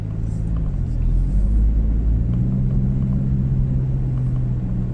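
A steady low engine and road rumble fills the cabin of a 2021 Toyota Innova X on the move in Sarawak, Malaysia, a constant drone with no clear revving.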